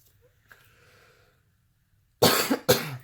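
Two harsh coughs burst out close to the microphone near the end, after a quiet stretch with a faint background tone.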